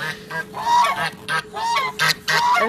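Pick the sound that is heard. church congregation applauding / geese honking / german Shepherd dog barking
geese honking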